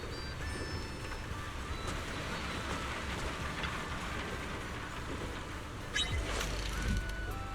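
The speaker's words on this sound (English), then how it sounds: "Of course it's raining." Rain falling in the video game Zenless Zone Zero, a steady dense hiss of drops that continues throughout, with a brief louder low rumble near the end.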